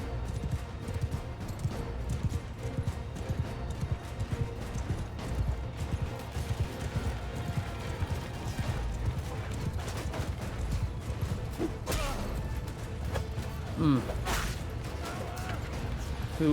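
Cavalry horses gallop into battle in Mount & Blade II: Bannerlord, a steady drumming of hooves with clashing and whooshing combat sounds layered over it, plus a few sharp impacts toward the end.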